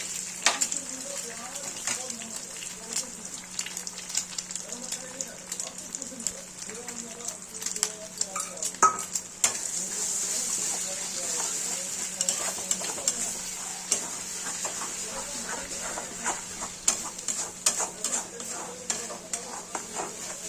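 Three large salted eggs fry in hot oil for dhaba-style egg bhurji, giving a steady close sizzle with scattered utensil scrapes and taps, while a voice talks over part of it.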